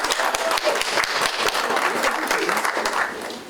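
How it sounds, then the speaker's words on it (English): Crowd at a youth art show applauds an award winner, a steady stretch of many hands clapping with distinct individual claps audible, tapering off slightly at the end. "Give Abby a round of applause"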